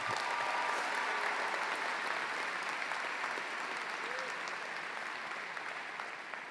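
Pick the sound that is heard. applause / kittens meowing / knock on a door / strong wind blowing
applause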